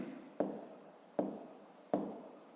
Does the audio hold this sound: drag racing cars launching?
no